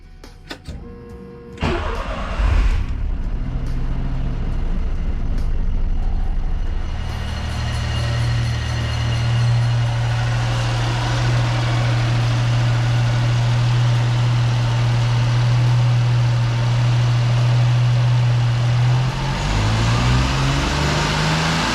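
A car engine is cranked and fires after a new alternator has been fitted, then settles into a steady, loud idle that holds for about twenty seconds with no talking.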